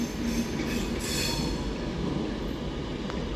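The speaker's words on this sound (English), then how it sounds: "390-046 is on this with the 1037 Avanti West Coast service from Liverpool Lime Street" An Avanti West Coast Class 390 Pendolino, unit 390-046, rolls into London Euston on the 1037 service from Liverpool Lime Street, a steady rumble of wheels with rail squeal and faint clatter throughout.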